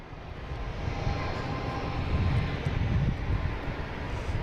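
A Delta airliner arriving from Minneapolis rumbles in at Boston Logan, a broad engine roar that swells and then eases slightly over a few seconds, heard alone.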